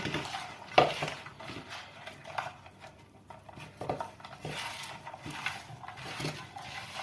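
Chicken and potato pieces rubbed together with salt, pepper and cumin in a dish, giving soft wet squelching and scraping with occasional clinks of the bowl, close and steady with no talk.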